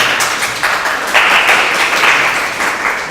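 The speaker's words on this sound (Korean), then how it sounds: "박수 한번 주세요" An audience at a presentation applauds, a dense, loud and continuous wash of clapping that swells slightly partway through and holds to the end, with no speech over it.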